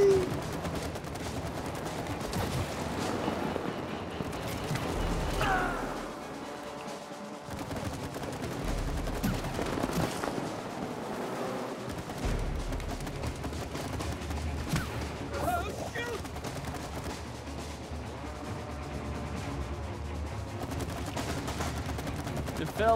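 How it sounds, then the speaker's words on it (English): Fireworks bursting in the video game It Takes Two, a dense run of crackling, popping blasts with low booms, loud and continuous over game music while players talk. "Fireworks."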